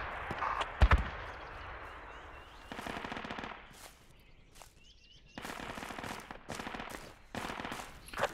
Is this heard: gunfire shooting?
yes